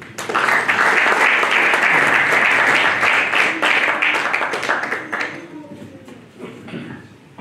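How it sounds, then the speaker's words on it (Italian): Loud audience applause at an official Valentine's Day presentation event in Longiano, Italy, sustained for about five seconds before thinning into scattered claps and fading, with a little voice murmur near the end. "Facciamo un applauso, prego."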